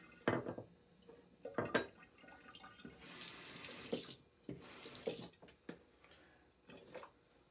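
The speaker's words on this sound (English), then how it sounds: "little bit of water in a bowl." Water runs from a tap in two short bursts into a shaving bowl for wetting a shaving brush, mixed with clinks and knocks of dishes nearby.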